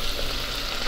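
Squid chicharrón (pota) browning in hot oil in a pan, a steady close crackling sizzle that runs evenly throughout with no voices.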